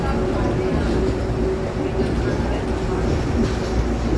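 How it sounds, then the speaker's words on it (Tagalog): Train ride heading to Central Station, with a steady low rumble and rolling rail noise throughout, voices talking faintly over the continuous hum of the carriage. "Naka-train kami ngayon."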